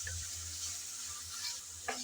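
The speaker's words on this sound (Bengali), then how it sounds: "আমি 2-1 মিনিট ভালো করে আদা রসুন ভেজে নিলাম।" Ginger, garlic and onion paste for mutton curry frying in a pan, a steady low hiss and sizzle close by, with a faint scrape of stirring near the end.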